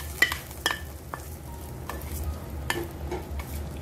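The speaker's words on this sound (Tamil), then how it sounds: "இதை தாளிச்சதை இதில் கொட்டிக்கலாம்." Hot tempering poured into a pan of buttermilk kulambu, giving a brief crackling sizzle with a few sharp pops and a soft stir, close and moderately quiet over a low background hum.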